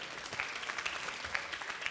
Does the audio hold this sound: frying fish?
no